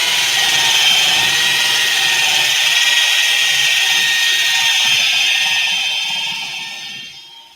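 A power tool spins a screw-on polishing pad across etched marble, giving a loud, steady high-pitched whine that holds throughout and fades as it winds down at the end.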